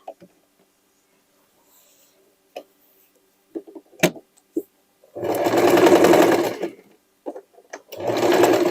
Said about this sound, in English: This way I will continue to stitch all the pieces.